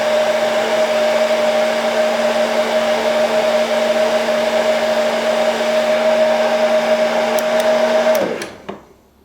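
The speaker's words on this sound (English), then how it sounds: "make sure that you get it evenly heated" A hot-air heater, like a hair dryer, blows on a briar pipe stem to soften it for bending. Its steady, loud whine and hum run without a break for about eight seconds, then cut off and die away.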